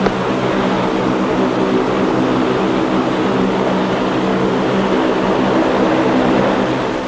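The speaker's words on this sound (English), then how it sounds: "Engines must be kept running." Aircraft engines run on an Antarctic airfield during a fuel stop, a loud, steady, unbroken propeller drone close by that stays constant throughout with no voices.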